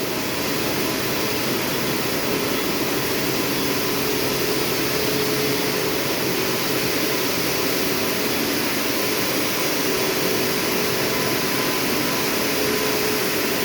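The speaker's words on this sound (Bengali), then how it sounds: "কত বড় কোম্পানি, অনেক মেশিন আছে" Many knitting machines running together in a factory produce a dense, unbroken mechanical roar. It stays loud and even throughout, with no talking over it.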